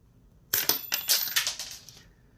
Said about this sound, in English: 12 gauge wire cut, here we go.